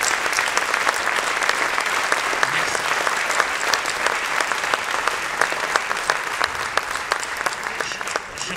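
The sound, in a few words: audience applause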